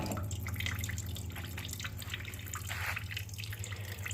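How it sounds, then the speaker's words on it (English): Water drips steadily beside the electrical switch of a Harbor Freight band saw, leaking from the blade washer port: a close patter of drops over a constant low machine hum, with no talk. "I don't like that dripping where the electrical switch is at."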